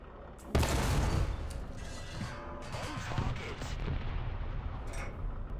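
A War Thunder tank cannon fires with a sudden heavy boom that rolls into a long, loud rumbling tail, with battlefield noise continuing beneath it.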